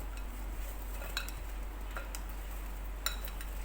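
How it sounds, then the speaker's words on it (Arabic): A spoon stirs dessert pieces through honey syrup, making soft, sparse clicks and taps against the pot. They sound close but faint over a low steady hum, with no talking. "ونقلب بقى"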